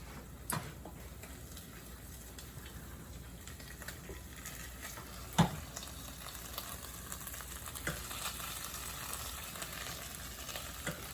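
Sweet Indonesian beef empal cooking down in a little oil, giving a faint continuous sizzle with scattered light ticks and one sharper knock, and no voices.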